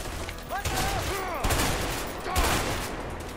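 Gunfire in the video game A Way Out, a dense, loud burst of overlapping shots filling the whole moment, with brief tonal whistles of in-game effects layered over it.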